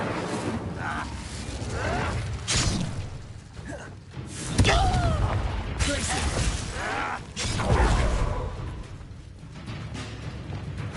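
Incendio fire spell cast in Hogwarts Legacy: several loud whooshing bursts and crackling impacts in quick succession over ambient rumble, with some voice sounds mixed in.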